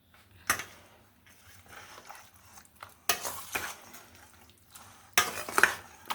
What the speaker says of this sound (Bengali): এখন আমি এটা মেখে নিব হাত দিয়ে মাখবো না চামিচ দিয়ে মাখবো